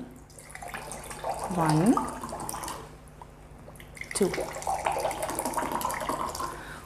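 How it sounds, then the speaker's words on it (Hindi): Home RO-filtered tap water is poured into two glasses in two short splashing pours, while someone talks over the sound. "2 में हम ले रहे हैं घर का आरओ का पानी"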